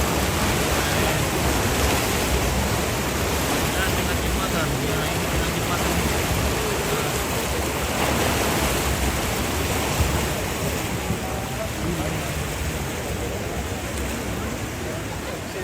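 Floodwater in a swollen river at Makale, Toraja, rushes in a loud, steady, roaring wash with no pause, and voices can be heard talking faintly underneath.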